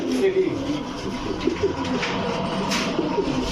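Pet pigeons, among them Pakistani Teddy birds, coo in soft repeated low hoots close by, one bird calling over a faint background of other birds while someone talks alongside.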